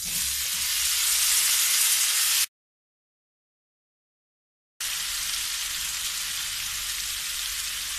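Chicken and paneer frying over high heat, a dense hiss of sizzling that cuts out to silence midway and then resumes at the same steady level.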